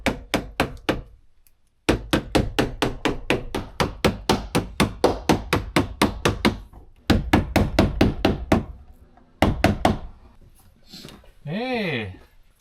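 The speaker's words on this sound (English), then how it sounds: "I'm just putting this trim on the inside metal of the van, not the outside" A quick series of sharp tapping knocks as edge trim is pressed onto a camper van's inside metal with pliers, steady and rhythmic, in bursts with short pauses, then a brief tonal whistle-like sound near the end.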